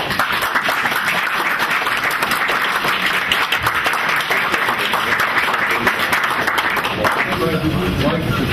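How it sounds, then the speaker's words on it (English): Audience at a regional planning commission meeting on wind energy applauds the staff, sustained loud clapping throughout, with voices emerging near the end. "we need to give the staff a real round of applause"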